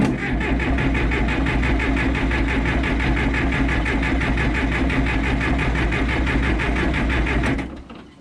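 A 52-year-old diesel tractor engine, unrun for years, chugs in a steady rapid rhythm as it is cranked and turns over, loud and close, for about seven seconds before abruptly cutting off.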